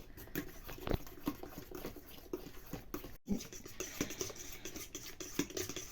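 Melted butter being mixed into dough batter for homemade paska, likely with a fork, giving soft, faint, repeated scraping and wet stirring strokes close by, with occasional small knocks against the bowl and no talk.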